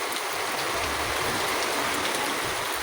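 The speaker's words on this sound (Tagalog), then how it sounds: "Kusog pa gano'n ang uwan." Heavy typhoon rain pouring down at dawn, a dense, steady hiss of drops drumming on surfaces without letup, loud and close, no voices.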